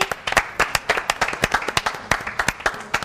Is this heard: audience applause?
yes